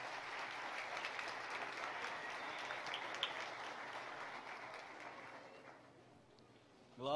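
A church congregation at a Sunday morning service applauds steadily and fairly softly, a dense, even wash of many hands that fades toward the end.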